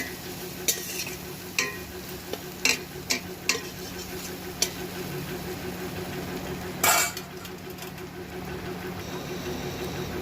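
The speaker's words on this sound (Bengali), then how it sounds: "পেঁয়াজটা ভাজা ভাজা হয়ে গেছে।" Onions fry in a pan with a little turmeric and salt for potoler dorma, a steady soft sizzle punctuated by sharp scrapes and clacks of a spatula stirring, with a voice talking over it.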